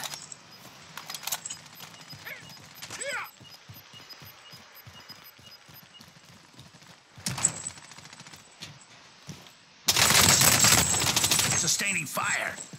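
Automatic gunfire in the Warzone season 6 video game, rapid bursts of shots crackling through the first seconds, then a loud, dense sustained barrage near the end.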